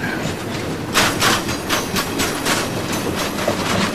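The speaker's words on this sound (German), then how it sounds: "Das hier ist der Zug nach Lorient, ja, zur Küste," A passenger train bound for Lorient on the French coast rolls along the rails with a steady loud rumble and a recurring clickety-clack of wheels over rail joints.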